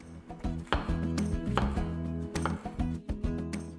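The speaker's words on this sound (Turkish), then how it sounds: "Ve sonrasında büyük parçalar haline doğrayacağız." A knife chops tomatoes into large pieces on a cutting board, giving a run of sharp, close knocks at an uneven pace over about four seconds, with no talking.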